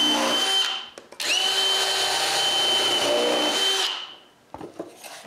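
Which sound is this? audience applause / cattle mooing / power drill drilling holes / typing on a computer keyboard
power drill drilling holes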